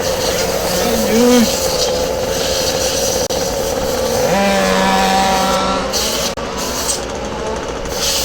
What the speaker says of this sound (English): I just love some of these engines.